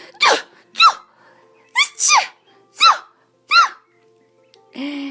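A series of six or so short, sharp sneeze-like bursts, spaced unevenly and loud, followed by a brief nasal vocal sound; likely a voice imitating sneezes.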